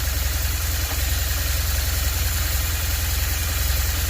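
A motorcycle engine idles with no load just after an oil change, a steady low rumble with an even, rapid pulse that stays close and constant throughout, with no talking.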